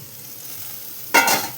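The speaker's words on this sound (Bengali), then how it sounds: "আর এদিকে আলু ভাজা বসিয়েছি।" Potatoes hit a hot pan with a sudden loud sizzle after a second of quiet kitchen background, the frying hiss continuing steadily.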